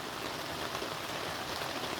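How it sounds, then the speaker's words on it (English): Steady rain drumming on an overhead cover in the Ozarks, a dense continuous hiss of drops close by with no voices. "I'm out of the rain, but it's kind of loud"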